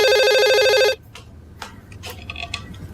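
An electronic telephone ring trills loudly for about a second, then cuts off, leaving faint rustling and movement in a quiet room.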